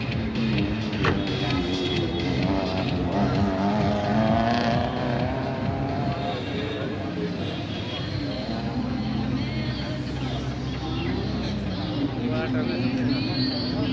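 An Isuzu rally car that rolled over keeps racing, its engine a steady, droning roar throughout, with voices talking over it.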